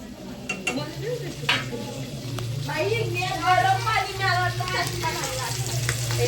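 Tuna fish fries in a pan with a steady sizzle, while voices talk over it throughout and a low hum runs underneath.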